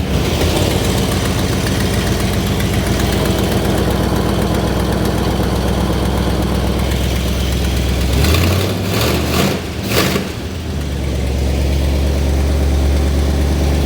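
Dodge Coronet engine idling after its first start in over 20 years, a loud, close, continuous rumble with a few revving bursts partway through before settling back to idle.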